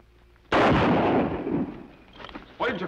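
A single loud gunshot rings out in a Western TV episode, then echoes and decays for more than a second. A voice follows faintly, and a short second burst of noise comes at the end.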